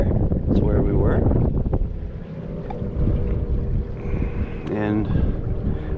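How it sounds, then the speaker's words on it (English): A sailboat under a full jib runs downwind away from a campsite, with steady wind buffeting and water rushing along the hull throughout, and voices talking over it. "So we have a downwind sail going as we leave the campsite."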